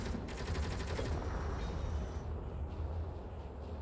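Rapid automatic turret fire from a base in the video game Space Engineers crackles in a dense, continuous burst, loud and steady, fading slightly toward the end.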